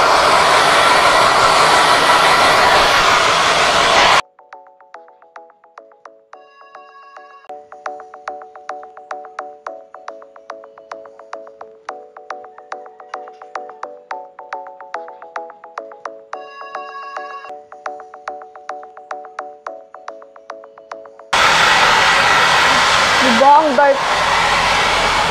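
A Kyowa hair dryer roars loudly, cuts out for a long stretch while a soft melodic chime tune plays, then the blowing comes back on strongly near the end.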